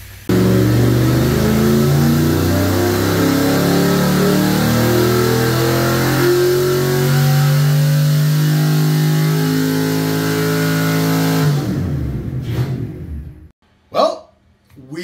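A retro Ford 5.0 V8 fitted with a Trick Flow 11R top end climbs steadily in pitch through a loud, full-throttle dyno pull, then cuts off abruptly near the end, followed by a couple of brief clunks.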